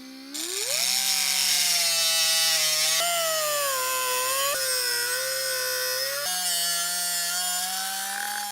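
Cheap Harbor Freight power tool cutting through steel, a loud continuous high-pitched whine with a rising motor tone at the start and slight pitch dips under load, steady for about eight seconds with no talking.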